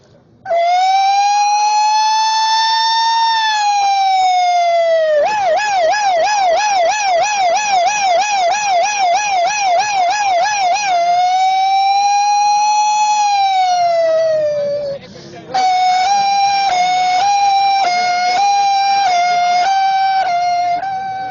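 A voice imitates a police emergency siren, rising and falling wails that shift into a rapid warble and then a steadier two-tone pattern, loud and continuous for about twenty seconds with one brief break.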